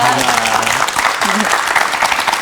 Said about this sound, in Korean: 다시 한번 박수로 감사 인사 전하겠습니다